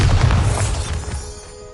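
Bombarda blasting spell going off in a Hogwarts video game, a single loud booming explosion at the start that rumbles and fades over under two seconds.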